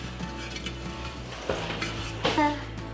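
A spoon smooths vegan chocolate frosting over a cake, giving soft scraping and light clinks of utensil against a dish, with a couple of sharper taps near the end, all close by and without talk.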